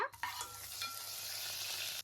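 Urad dal, chana dal, mustard seeds and cumin hit hot oil with a sudden crackle, then a steady sizzle continues, quiet and close, with a brief clink at the start.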